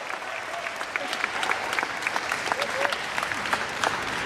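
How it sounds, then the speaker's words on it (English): A crowd applauds Wellmed at a Dallas senior-center event at Redbird Mall, with dense, steady clapping and a few cheers throughout. "Let's give Wellmed a round of applause."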